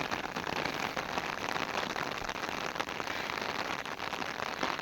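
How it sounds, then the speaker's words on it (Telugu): Heavy rain pours down steadily, a dense, loud hiss of drops hammering a surface with no letup. "తిరుగు వర్షం అయితే ఫుల్గా స్టార్ట్ అయిందండి మామూలు వర్షం కాదు అసలు"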